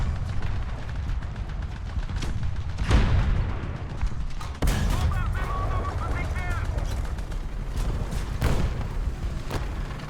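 Artillery fire in War Thunder thumps as a few heavy booms among sharp bursts, loud and close over a constant rumbling battle backdrop.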